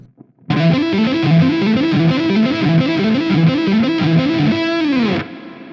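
Fast electric guitar hammer-on run with a distorted tone, notes rippling steadily in a repeating pattern, then one held note that fades out.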